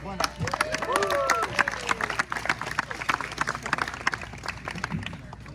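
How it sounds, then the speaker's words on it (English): Guests at a wedding reception clap together in a sustained round of applause, a dense run of sharp claps near and loud. Voices rise over the clapping early on, then the claps carry on steadily with murmuring beneath. "One more round of applause."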